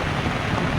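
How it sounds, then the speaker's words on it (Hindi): Steady rain falls during the rainy season over a rural area, a continuous dense hiss that fills the short stretch with no break and no voices. "इस समय बारिश का मौसम है"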